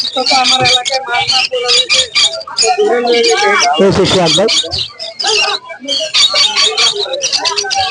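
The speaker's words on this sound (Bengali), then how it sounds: "সুন্দর সুন্দর পাখি বিদেশি পাখি সেখানে" Dense, shrill chirping and twittering from many caged birds, including foreign species, fills a busy bird market at Mirpur in Dhaka, loud and close with overlapping calls and a brief flutter of wings midway, while a voice speaks underneath.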